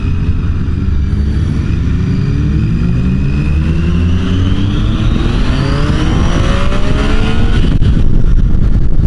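A Triumph Tiger 800XC motorcycle accelerates hard in first gear, its engine note climbing steadily, loud and close, with heavy wind rush for about nine seconds.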